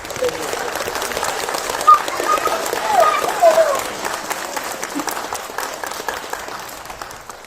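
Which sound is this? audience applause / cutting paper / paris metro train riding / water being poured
audience applause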